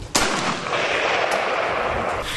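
Kalashnikov and M-16 automatic rifles fired during weapons testing: a sharp loud report followed by a sustained roaring burst of rapid fire, dense and continuous, with no talk.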